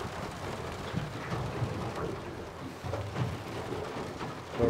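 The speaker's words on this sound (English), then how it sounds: "It really was not forecast to be chucking it down the rain." Heavy rain pours down on a Barcrusher 615C fishing boat off Wollongong, a dense continuous hiss of drops drumming on the hull and deck, steady and close with no voices.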